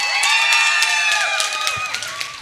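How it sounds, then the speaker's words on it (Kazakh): Wedding guests at a Kazakh celebration clap and cheer in a loud, sustained burst, whoops and shouts rising over dense applause before it gradually thins toward the end. "бір қаттырақ қол шапалақ ұрайық қана"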